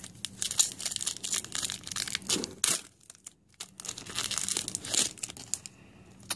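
A Skylanders trading card pack torn open by hand, close crinkling and tearing of foil wrapper in uneven bursts, loud and alone with a short pause midway.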